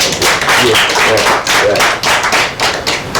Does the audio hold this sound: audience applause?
yes